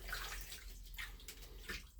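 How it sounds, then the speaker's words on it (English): A paintbrush rinsed in water, giving a soft, steady sloshing and trickling wash that is faint and continuous, with no voices. "Now I rinse that in the water."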